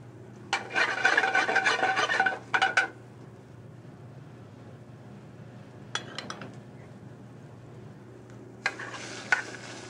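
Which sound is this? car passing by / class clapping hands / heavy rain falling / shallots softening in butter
shallots softening in butter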